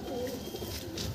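An old-generation Andhra Tiger pigeon, an Andhra breed, gives a soft, low, rolling coo inside a loft, steady and close through the short stretch with no talking.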